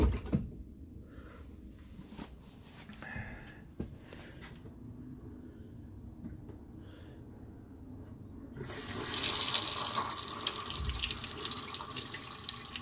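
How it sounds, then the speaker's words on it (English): A hot water tap is turned on in a conversion, with faint handling clunks and a low background hum at first, then a rush of running water swells loudly near the end. "Let's turn on the hot water."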